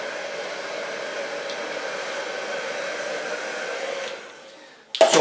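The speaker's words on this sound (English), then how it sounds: "So far blow drying." A hair dryer blow drying a long bob runs with a loud, steady close whir, then winds down and cuts off near the end before a brief handling clatter.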